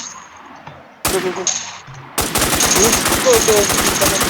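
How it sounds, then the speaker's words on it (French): Automatic gunfire in the zombie survival game Infestation: The New Z, with a couple of isolated shots followed by a dense rapid burst emptying a magazine, loud and close. "je lui vide mon chargeur quand même"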